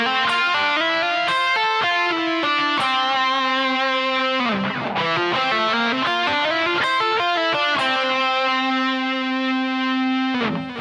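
A distorted electric rock guitar plays a G Dorian solo run, a fast string of sustained, sliding notes with bends that ring out loudly alone for about eleven seconds.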